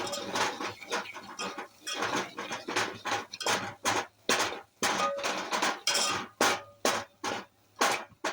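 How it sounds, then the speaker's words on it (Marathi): A home-made black masala with red chili powder stir-fried in a pan, heard as rhythmic bursts of metal scraping and clattering against the pan, close and fairly loud, with short pauses between strokes. "छान परतून घ्यायचं"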